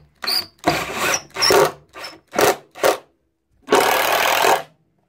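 A power drill drives screws into a wooden push stick for a resaw setup, heard as a series of short, sharp whirring bursts followed by one longer sustained run, close and fairly loud with brief silences between.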